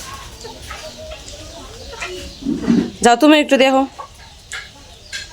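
Chickens clucking while being given feed at a family home, short bursts of close fowl calls rising around the middle of the clip amid household talk.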